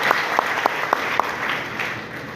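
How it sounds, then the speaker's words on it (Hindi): At a success seminar in Varanasi, an audience claps in a brief burst of several sharp, evenly spaced hand claps that quickly fade into room noise. "एक बार राजीव के लिए ताली बजा सकते ह"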